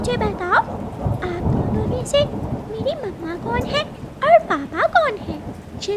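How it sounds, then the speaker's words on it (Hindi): Rain and rumbling thunder play outside in a cartoon, heard beneath near-constant high-pitched, animated voices talking over it. "बेटी, बाहर बारिश हो रही है"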